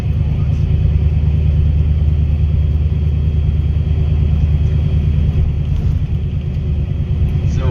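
A car cruising along a large container port, its engine a steady low rumble with road noise held at an even level throughout, no voices over it.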